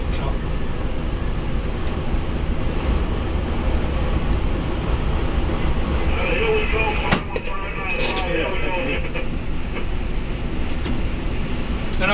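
Metra Milwaukee District train rolling downhill, heard from inside the cab car: a steady, continuous rumble of wheels and running gear with brief squeals and clatter partway through, under intermittent talk.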